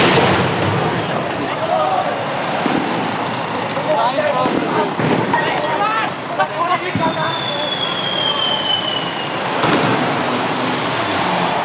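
Firecrackers go off amid rioting at a St. Pauli versus Hansa Rostock football match: several sharp bangs cut through a constant roar of crowd noise and shouting voices.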